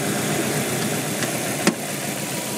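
A 2002 Subaru Forester XT boxer engine idles steadily with a low, even hum and faint vibration, with one brief sharp click partway through.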